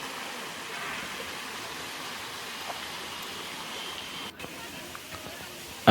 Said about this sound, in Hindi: झरना पानी वानी गिरत हे